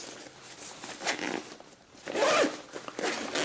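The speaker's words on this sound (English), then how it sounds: "you can unzip that" A zipper on the internal compartment divider of an Osprey Farpoint 40 or Deuter Transit 40 travel backpack is pulled open, a close rasping zip with a brief pause before a second, louder pull.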